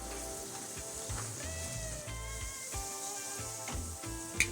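Korean kalbi short ribs sizzle steadily on a hot grill, a continuous close crackling hiss with a few sharper pops near the end.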